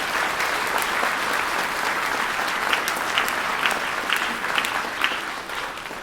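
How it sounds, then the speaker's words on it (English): An audience claps steadily at a spring choir concert, a dense, sustained round of applause filling the room with individual sharp claps standing out. "One more round of applause from the coach."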